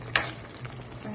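Food frying in a pan, a brief soft sizzle with a single sharp clatter near the start, heard close and alone.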